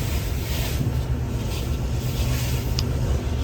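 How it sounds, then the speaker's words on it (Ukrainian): Steady, dense rush of spraying water hosing down a Kenworth truck at a truck wash, continuous and loud with a windy, noisy texture throughout. "Все, тепер трак змивають повністю."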